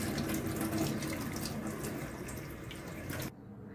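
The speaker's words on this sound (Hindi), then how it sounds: "अब ये मैंने पनीर को अच्छी तरह से साफ पानी से धुल लिए" Running tap water splashing over freshly made paneer (chhena) as it is rinsed in a kitchen sink, a steady close rushing flow that cuts off abruptly near the end.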